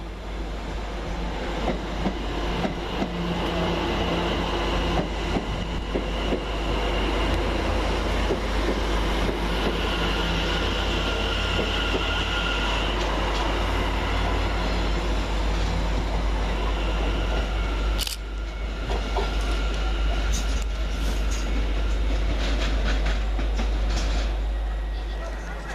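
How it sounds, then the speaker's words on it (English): Class 710 London Overground electric train 710111 pulling away from a station platform on the far side, a steady continuous rumble of wheels and motors with a brief clatter partway through. "Departing over on the far side is 710111, working the 1830 London Overground service from Cheshunt to London"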